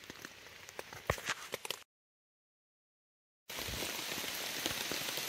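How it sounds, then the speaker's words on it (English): Steady rain pattering on a campsite by a lake, with a patch of crisp nearby drops before the sound cuts to silence and then returns as a dense, louder wash of rainfall. "It's still raining"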